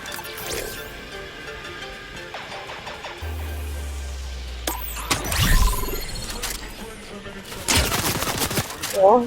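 Fortnite gunfire cracks in bursts amid rumbling explosions and clatter, with loud shots near the end; no one speaks.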